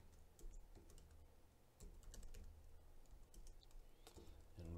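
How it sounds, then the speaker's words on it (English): Keys clatter on a computer keyboard as someone types C++ code, quick irregular bursts of soft clicks with short pauses, close and quiet, with no voices. "I've clearly got an issue typing unsigned."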